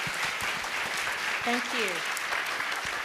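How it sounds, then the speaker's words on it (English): Audience applauding panel speakers at an education summit session on arts and creative industries, steady clapping throughout with a voice briefly speaking over it. "please give a round of applause for our speakers today"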